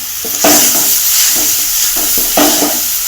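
Crushed garlic and curry leaves hit hot oil in a pan, giving a loud, close, continuous sizzle and hiss, with a few stirring scrapes swelling the sound. There is no talk.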